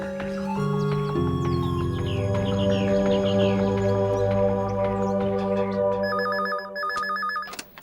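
A telephone rings with a repeated electronic ring tone over a television drama's background music, the rings close and steady and the ringing cutting off near the end.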